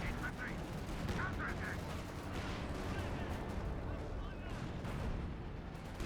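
Gunfire and anti-tank cannon shots from a Company of Heroes 2 battle, with a six-pounder anti-tank gun firing on a Panzer IV and a Sherman tank in action, a dense continuous rumble of shots and blasts under commentary.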